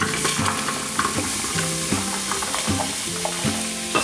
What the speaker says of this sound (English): We're gonna saute these for just a few minutes just to soften them up.